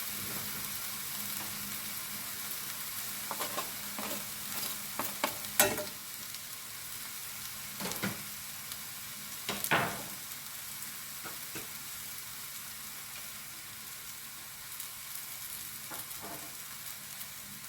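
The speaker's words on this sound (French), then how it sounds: "Et là, je vais rajouter l'ail et la crème." Garlic and cream fry in a pan for a gouda and spinach tart, giving a continuous, fairly quiet sizzle with a few scattered stirring clicks and scrapes, no voices.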